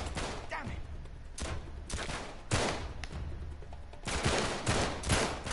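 Gunfire in the Uncharted 3 video game, repeated sharp shots and bursts at irregular intervals over a steady background of game noise, fairly loud throughout.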